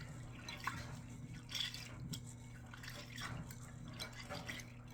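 Navy beans are scrubbed by hand in water, giving faint, soft sloshing and light dripping splashes at irregular moments over a low steady hum.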